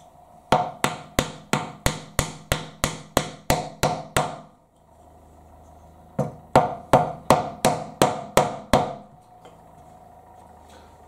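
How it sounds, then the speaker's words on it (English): A small fretting hammer taps frets into the neck of a Fender Player Series Stratocaster, sharp evenly spaced knocks in two runs, about a dozen then eight, with a short pause between. "Taking a small, my small fretting hammer."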